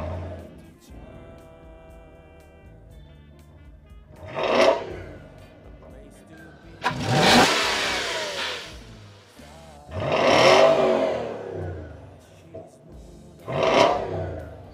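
A Volvo S80 with a 4.4 V8 and six-speed automatic revs in four separate surges, each rising and falling back to a low idle, the second and third the longest and loudest.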